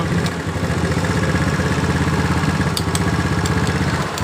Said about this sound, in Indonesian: Dengar suara dari motor ini sudah halus ya teman-teman.